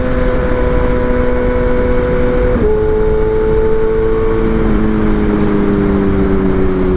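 A BMW M1000R Competition motorcycle with a titanium header and mid pipe runs at a steady, loud, close rumble, its pitch easing down slightly in two small steps with no sharp revs.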